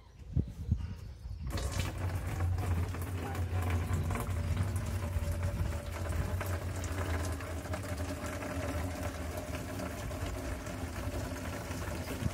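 Cooled home-brewed coffee porter wort being poured from a height into a fermenter, a steady loud splashing gush of liquid that runs continuously after a brief quieter start.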